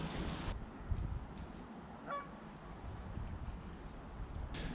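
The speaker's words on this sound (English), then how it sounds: "today there is one single forlorn goose, occasionally honking." A lone Canada goose honks once on a river, a single faint, distant call rising out of steady low outdoor background noise.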